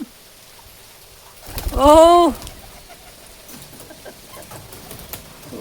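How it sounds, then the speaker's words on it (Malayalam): A single pigeon coo rings out close by, brief and clear, then fades into a quiet background with a faint murmur of voices. "ഇവിടേക്ക് കുറേ പ്രാവുകളുണ്ട് കേട്ടാ"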